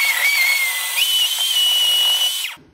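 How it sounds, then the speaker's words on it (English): A blender whirs at high speed while blending a smoothie, a loud, close, steady whine that rises slightly in pitch partway through, then cuts off abruptly. "And then we're just going to blend this till it is smooth."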